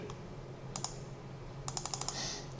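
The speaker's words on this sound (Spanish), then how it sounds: "Triple clic" Faint computer mouse clicks in a quiet room: one isolated click, then a quick run of several sharp clicks close together, over a low steady hum.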